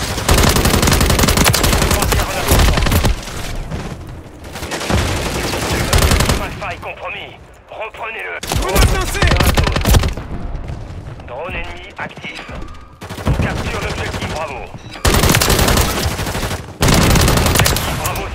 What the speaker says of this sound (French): Des tirs.